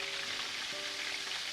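Thai shrimp cakes (tod mun goong) sizzling in hot oil in a pan, a steady bright crackle throughout with no voices.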